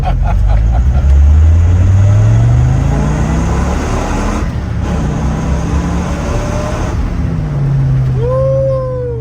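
A 1994 Dodge Viper RT/10 with a V10 engine drives down a road, its loud engine note rising through the gears with climbing pitch sweeps and a steady throaty drone close by.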